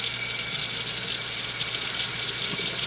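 Bath water pours steadily from a tap into a tub at a child's bathtime, a continuous close splashing rush with no speech over it.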